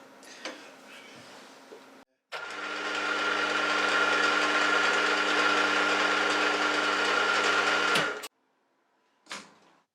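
A small drill runs steadily with a high whirring grind for about six seconds while boring a 2.5mm hole in metal, bracketed by brief clicks and a short knock afterward.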